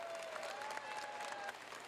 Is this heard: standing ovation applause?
yes